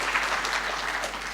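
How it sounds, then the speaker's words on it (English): Audience applauding during a speech by a Kenyan cabinet secretary at a government event, a dense, continuous wash of clapping filling the whole brief moment. "You should give TSC a clap."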